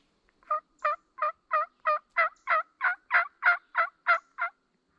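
A gobble-like turkey call, apparently a hunter's imitation near a wild turkey roost, rings out as thirteen close, evenly spaced, clear notes against near silence.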